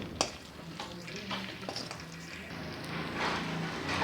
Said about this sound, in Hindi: अब इसी ऑयल में मैं ये जो प्याज कटी हुई है डालूंगी इसमें और इसको मैं